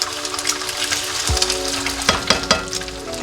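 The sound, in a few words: egg frying in a pan for garlic butter shrimp fried rice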